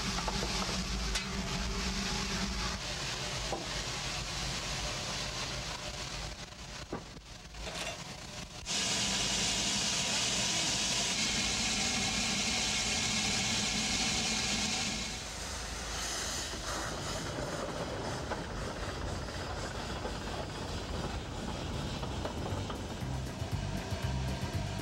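A steam locomotive works hard up a grade on a heritage railroad in New Hampshire, a steady loud roar with a rushing hiss that swells midway, then settles back into a continuous laboring rumble with no talking.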